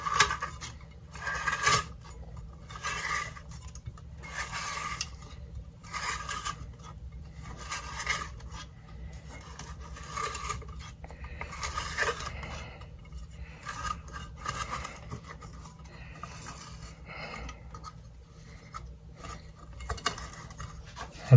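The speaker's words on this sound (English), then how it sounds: "Take the rewind starter, and I'm going to turn it counterclockwise." A Johnson outboard rewind starter being turned counterclockwise by hand gives off repeated short scraping, rasping bursts in an uneven rhythm, close and fairly quiet, with a steady low hum underneath.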